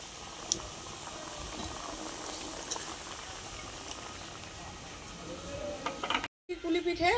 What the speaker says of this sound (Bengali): এইভাবে সবগুলো আমি ভেজে নেব।